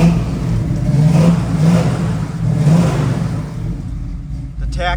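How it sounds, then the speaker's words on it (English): A 1967 Chevrolet Camaro engine revs up and settles in steady surges, loud and close, with a brief clatter at the end. "I'm gonna give it a rev so you can hear it."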